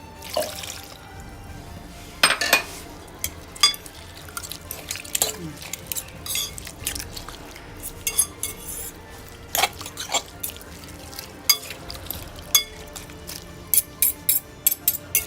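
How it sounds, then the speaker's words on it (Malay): Tamarind juice and a cup of water pour into a cooking pot, with splashing, dripping and occasional clinks of utensils against the pot in a close kitchen setting, bursts of sound coming irregularly throughout. "Masukkan semua air asam jawa, 1 cup air,"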